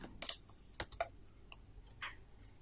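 Typing TypeScript code on a computer keyboard: about a dozen crisp, separate key clicks at an uneven pace, close and quiet against near silence, with no voice.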